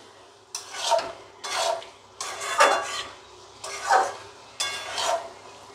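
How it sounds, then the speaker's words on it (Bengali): Boiled chickpeas being sautéed with spices in a pan for chole curry, a spoon scraping and stirring in five evenly spaced strokes over a faint sizzle, close and clear with no talking. "এইভাবে ছোলাগুলো দিয়ে মশলার সাথে একটু মাখিয়ে সাঁতলিয়ে নিতে হবে।"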